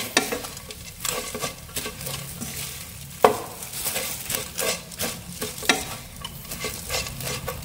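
Green onion and coriander get stirred into a vegetarian spring roll filling in a pan, with steady scraping and stirring strokes, a soft sizzle underneath and one sharper knock of a utensil midway.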